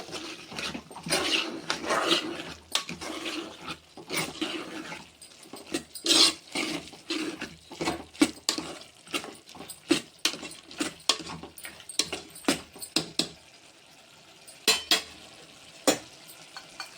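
Ginger garlic paste stirred into hot oil for mutton keema pulao, giving a near, crackling sizzle with repeated scraping and tapping strokes of the spoon against the pan, busiest early and thinning into sparser clicks toward the end.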